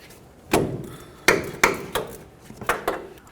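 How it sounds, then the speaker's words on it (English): An 18mm socket works loose the nut on an inner tie rod end of a 1988-2000 Chevy C/K1500, giving a series of sharp metallic clicks and knocks, about seven irregular hits, close up. "Let's use our 18mm socket, loosen this up."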